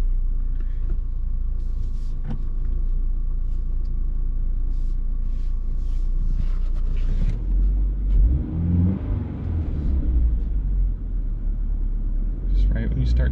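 A 2022 Toyota GR86 engine hums and rumbles steadily from inside the car, rising in a brief swell near the middle as the gears change, with a voice talking over part of it.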